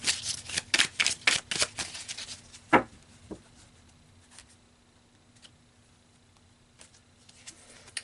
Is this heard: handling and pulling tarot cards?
yes